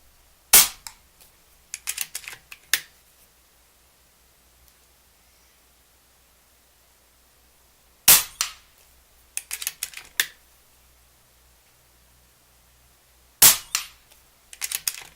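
Rifle shots fired with a scope camera mount attached, several sharp loud cracks in scattered groups separated by long quiet gaps, with no voices.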